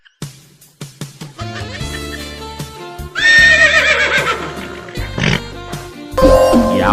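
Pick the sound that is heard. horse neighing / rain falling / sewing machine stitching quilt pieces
horse neighing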